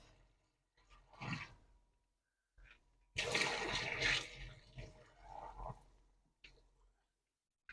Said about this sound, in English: And I'm going to pour off some of this water.